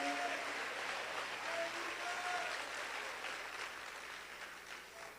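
A church congregation applauding, a steady, distant-sounding wash of many hands clapping that holds fairly even and gradually fades toward the end.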